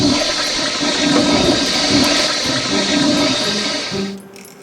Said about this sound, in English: Simply press the flush water button.